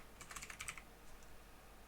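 Quick bursts of typing on a computer keyboard, a short run of light key clicks close by, then a faint stray tap in a quiet room.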